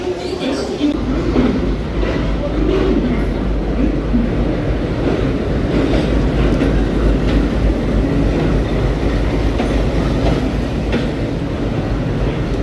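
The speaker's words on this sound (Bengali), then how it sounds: "বুঝতেই পারছেন আমি এখন অলরেডি হাওড়া স্টেশনে পৌঁছে গেছি।" At Howrah railway station, a train rumbles and rattles continuously with clattering wheel noise, loud and close, over busy platform ambience.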